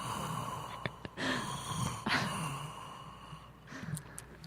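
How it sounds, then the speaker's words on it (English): Close, heavy breaths: a couple of loud sighing exhales and gasping inhales, with faint clicks and shuffling in between. "that's the unsexiest breathing I ever heard in my life"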